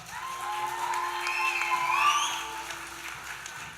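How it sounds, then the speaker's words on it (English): Applause from a festival audience for the show's crew, spread and fairly even across the moment, with scattered whoops and a whistle rising over the clapping. "Let's give these guys a big round of applause"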